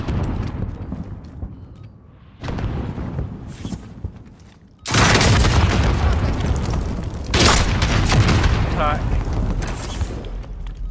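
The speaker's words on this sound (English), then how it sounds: "Sending rocket!" Rocket launched and exploding in Call of Duty Warzone, heard as a loud broadband blast that sets off sustained roaring rumble with a second surge, following quieter mechanical game noise and chatter.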